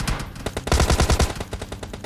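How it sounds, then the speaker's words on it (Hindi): Rapid automatic gunfire in the PUBG Lite video game, a close, loud burst of shots in quick rhythmic succession lasting about two seconds. "और उसके साथ साथ और भी गोलियां चल रही थी।"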